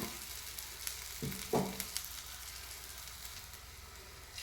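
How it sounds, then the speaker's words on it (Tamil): Potato patties frying in a pan for ragda chaat give a soft, steady sizzle with a few faint clicks and taps of a utensil. No voices are heard. "இந்த உருளைக்கிழங்கை அப்படியே மெதுவாக இதில் வச்சுருங்க. அது வெந்துக்கிட்டே இருக்கட்டும்."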